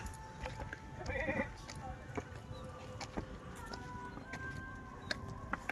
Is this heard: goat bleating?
yes